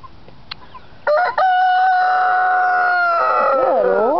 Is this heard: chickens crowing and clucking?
yes